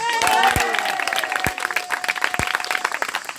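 Audience applause and crowd noise for a contestant at a French game-show style event, a burst of clapping with a few sharp louder claps, heard under an announcer's voice and a sustained musical tone.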